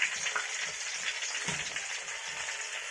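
Onion, tomato and green chillies sizzle steadily in a hot pan for pork ularthiyathu, with a dense, even frying hiss throughout and a brief stir or clatter midway; no one speaks.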